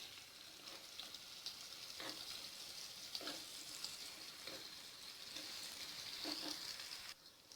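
Paneer pieces fry in oil in a pan with a soft, faint, continuous sizzle. A few light clicks and scrapes come at spaced intervals as the pieces are turned, and there is no talking.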